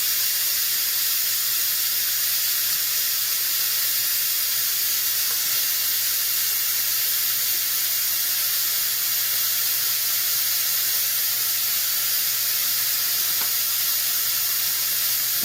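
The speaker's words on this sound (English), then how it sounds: "so that all the steam comes out at one time" Steam hisses from a pressure cooker's quick-release valve during a lasagna cook, a loud, continuous, even jet of venting that holds steady from start to finish.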